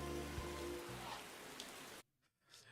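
Steady rain hisses in the video game Dark Deity 2, a dense patter that abruptly cuts out near the end, leaving only faint traces.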